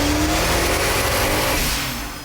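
A twin-turbo Gen III Hemi SRT8 Challenger roars on a dyno, its engine revving loud and close with a rising whine before easing off at the end.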